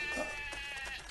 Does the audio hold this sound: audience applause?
no